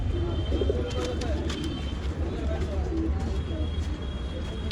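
Old line pigeons coo softly and continuously at a bird seller's in Bangalore, with soft chirps and a crowded background murmur of people talking nearby.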